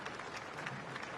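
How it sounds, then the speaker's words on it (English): A crowd claps at a Clearance Divers Association ceremony in Brisbane honouring Royal Australian Navy veterans, a brief, faint, distant patter of applause lasting about a second. "And hear the applause of the crowd"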